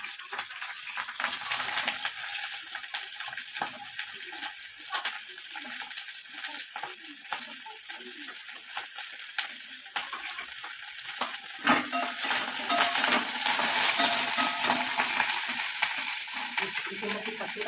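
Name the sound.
cauliflower added to hot oil, frying and stirring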